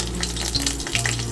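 Whole cumin seeds, bay leaves and a dried red chili fry in hot oil in a heated kadai, giving a steady, close, dense sizzle with no voices.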